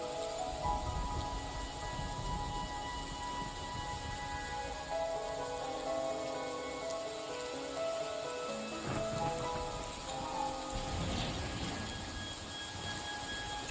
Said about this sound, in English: Carlotta's Resonance Showcase starts out with rain as well.